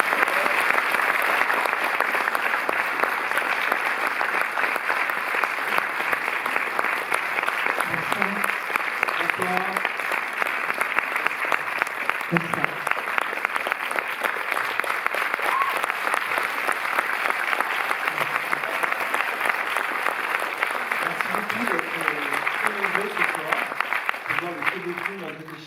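Long, sustained applause from a cinema audience in Paris welcoming Catherine Deneuve to a film presentation, even and continuous for the whole stretch, with faint voices occasionally audible beneath the clapping.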